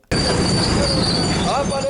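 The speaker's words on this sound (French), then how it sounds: "Il faut attendre que les trains passent pour qu'on fasse passer d'autres véhicules et motos." A train rolls past a road crossing with loud, continuous rumbling. High wheel squeals rise over the noise, and the sound stays close and steady throughout.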